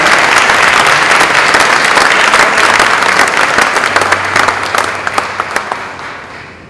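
Loud, full applause from an audience honoring students at a school anniversary ceremony in Talcahuano, a thick continuous roar of many hands that holds steady and then slowly fades near the end.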